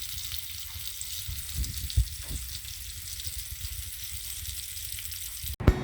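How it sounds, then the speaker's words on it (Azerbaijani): Fish fries in a pan with a constant bright sizzle and low rumble, a few soft knocks along the way and a sudden clatter near the end, nearby and with no speech. "Bu gün balıq qızardacam."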